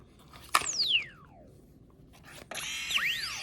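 An LG Wing phone's swivel mechanism plays an added sound effect, a sharp onset with a falling whistle-like sweep, then a second swoosh with rising and falling tones, close and clear over a quiet background.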